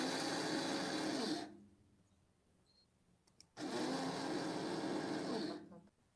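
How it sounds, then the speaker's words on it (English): An electric grinder crushes raw sugar into powder with a loud, close, high whirring burst, then a pause of near silence, and a second equally loud grinding run before it cuts off. "So I'm going to crush this raw sugar in the grinder here."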